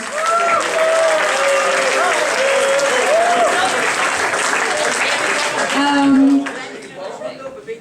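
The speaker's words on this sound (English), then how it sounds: "Please give him the applause." Applause from a school event audience fills the room, a sustained crowd of clapping hands with whoops and voices on top, fading near the end into scattered claps.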